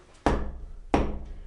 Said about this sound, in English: I'll use my hammer a while like this,